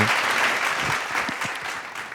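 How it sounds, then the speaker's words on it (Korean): An audience at a lecture series applauds after a talk, a dense, even burst of clapping filling the short stretch at moderate loudness, with no speech over it. "큰 박수 부탁드리겠습니다"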